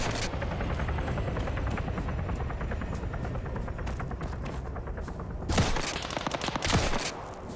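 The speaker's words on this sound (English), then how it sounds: "so the minigun guys are actually getting some good hits here" Helicopter-mounted minigun fire in the Arma 3 video game, rapid dense bursts over a constant rotor drone, with two louder, closer bursts near the end.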